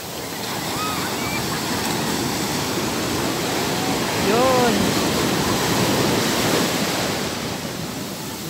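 Ocean waves break and wash onto the beach at Liwliwa, Zambales, near high tide around sunset, as a loud continuous roar of surf swelling near the middle. Wind buffets the microphone.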